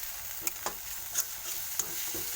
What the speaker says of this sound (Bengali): আদাটা খুব ভাজা নিয়ে হালকা করে ভাজা করে